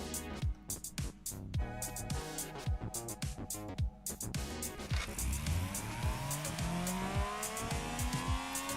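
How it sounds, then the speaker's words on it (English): A heavily turbocharged car engine revs hard through a series of sharp blips, then winds up in one long rising pull as the big turbo builds boost, loud and close with no talking. "Turbo's building boost."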